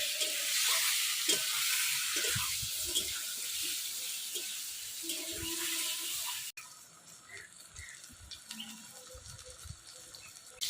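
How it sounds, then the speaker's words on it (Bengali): Eggplant frying in oil, a bright sizzle with scraping stirs in the first part, then quieter crackling with occasional clinks after an abrupt drop. "এই দেখেন বেগুনটা কত সুন্দর ভাবে ভাজা হয়ে গেছে।"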